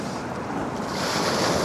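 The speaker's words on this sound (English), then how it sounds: "Do want a larger wave coming in" Ocean waves wash over coastal rocks and seaweed in a steady, loud broadband rush that swells toward the end, mixed with wind noise on the microphone.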